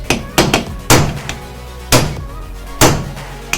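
Sharp metallic hammer blows ring out during reassembly of a Lambretta 125 LD scooter engine, about six strikes at irregular intervals, close and loud with short decaying rings.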